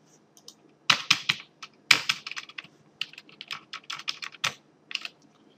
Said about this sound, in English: the wireframe density by simply hitting page up and page down